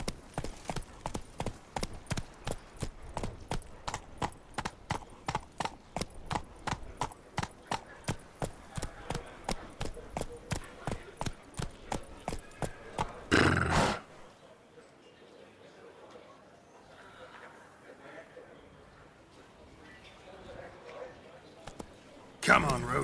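Roach, Geralt's horse in The Witcher 3, gallops in a fast, even clip-clop of hooves that runs for about fourteen seconds, then stops abruptly, leaving quiet ambience with faint movement.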